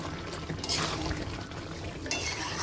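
Chicken curry with fried potatoes cooks down in a pan, faint sizzling mixed with a spoon scraping and clinking against the metal, including a sharp clink near the end.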